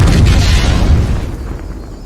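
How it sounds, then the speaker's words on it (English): A pair of torpedoes blow apart an AT-AT walker's crew compartment in a Star Wars battle over the Kuat shipyards, one loud deep booming explosion rolling out and fading over two seconds. "let loose a pair of torpedoes that annihilated an AT-AT crew compartment"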